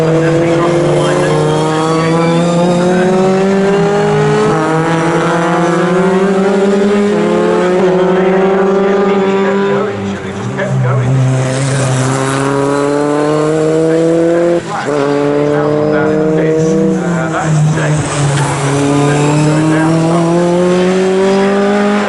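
Sports 2000 race cars at full throttle at Snetterton, a sustained loud engine roar rising and falling through gear changes as the cars pass, with a commentator talking over it.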